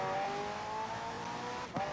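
A McLaren P1 held in fourth gear in Forza Horizon 4 gives a steady, sustained engine drone at constant revs, loud and close, with a brief tire scrub near the end.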